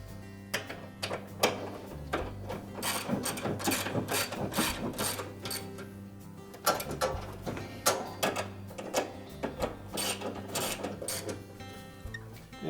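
Retaining bolts being tightened on a Whirlpool washer transmission during a clutch lining repair, heard as close, repeated clicking ratchet strokes in uneven bursts with short pauses between them.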